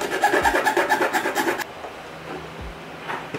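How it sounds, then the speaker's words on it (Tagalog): A hand file rasps at a metal bracket for a motorcycle mini driving light in quick, even back-and-forth strokes that stop after about a second and a half, leaving faint handling noises and a couple of soft knocks. "Kung kulangin man, liyahin nyo na lang to o kaya lagariin nyo ulit."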